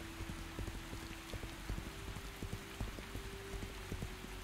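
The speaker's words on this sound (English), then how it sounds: "Man, it rains too much in this game." Continuous in-game rainfall, a close, uniform patter of drops hissing without pause, with a soft low hum underneath and no speech.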